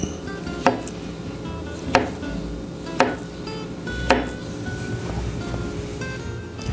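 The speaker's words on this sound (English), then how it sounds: "lay this down, and we're just going to slice it up." A knife slicing through cooked pork on a cutting board, four evenly spaced sharp knocks of the blade against the board, close and distinct over a steady hiss of kitchen background noise.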